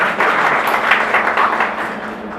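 An audience at an award ceremony bursts into loud applause, a full burst of many hands clapping close by that tapers slightly toward the end.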